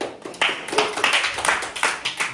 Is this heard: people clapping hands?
yes